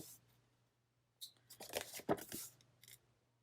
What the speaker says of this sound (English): let's go ahead and get this trimmed